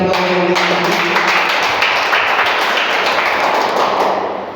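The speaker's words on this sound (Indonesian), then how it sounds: "Tepuk tangan dulu dong untuk yang mau" A church service congregation applauds in a hall with a burst of brisk, dense clapping. The clapping is loud and steady for several seconds, then starts to fade toward the end.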